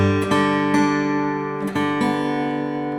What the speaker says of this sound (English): here's the sound of the guitar.